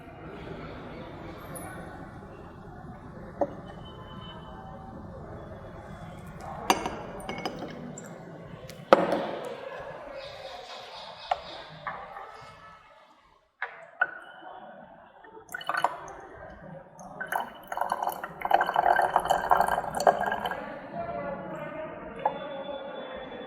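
Distilled water trickles slowly into a glass beaker during a chemistry practical, with soft dripping, pouring and occasional clinks of glass, while someone talks over it.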